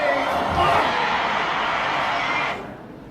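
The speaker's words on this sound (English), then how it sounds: "The crowd was going absolutely nuts" Basketball arena crowd roaring during a playoff game, a dense sustained wall of cheering that holds loud and steady, then drops off sharply near the end.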